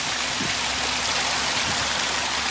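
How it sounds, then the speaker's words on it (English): A small backyard pond waterfall pours steadily down through driftwood and stone spheres, giving a continuous close hiss and splash of flowing water with no talk. "some cool little waterfall coming down through there"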